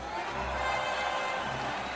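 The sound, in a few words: audience applause and cheering for a guest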